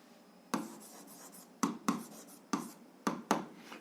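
Pen writing on paper during an algebra exercise, a run of sharp taps and short scratchy strokes in quick irregular bursts, close and fairly quiet with no voice over them.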